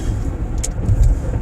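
Road traffic with cars driving, a loud steady low rumble of engines and tires from inside a vehicle, with a couple of brief higher hisses from passing cars.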